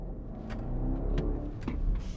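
A 2019 BMW X5 xDrive50i with a 4.4 litre V8 accelerates with a low, muffled engine growl heard from inside the cabin, steady and moderate with a few brief bumps.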